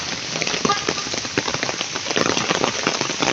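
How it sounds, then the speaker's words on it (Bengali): Heavy rain pours down in a steady, dense roar of drops hitting surfaces close by, continuous and loud throughout with no pause. "কি বৃষ্টি রে বাপ, কঠিন বৃষ্টি।"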